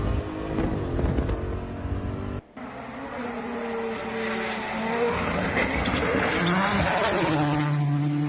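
Rally race car engine roars loudly and continuously, pitch sweeping up and down as it powers through turns, with a brief sharp dropout early on, then a sustained high revving pass with tire noise.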